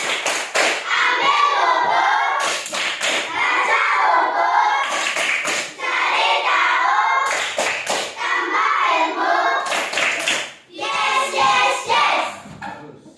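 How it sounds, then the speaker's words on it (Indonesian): Schoolchildren in a fourth-grade classroom do the 'tepuk literasi' clapping chant, their voices chanting together between repeated sharp bursts of collective hand claps, loud and close. "Tepuk literasi."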